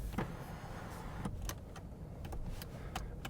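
A Subaru Impreza RS sunroof opening inside the car: quiet, with a few soft clicks and a faint mechanical whir.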